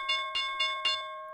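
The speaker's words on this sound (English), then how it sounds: "10 seconds until the bell" The opening bell of the stock market sounds as four quick evenly spaced rings, each one fading into a steady ringing tone.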